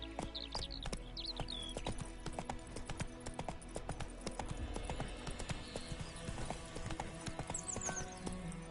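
Hooves of Roach, the horse in The Witcher 3, beat out a brisk, continuous clip-clop rhythm, mixed with game ambience and a few high bird-like chirps.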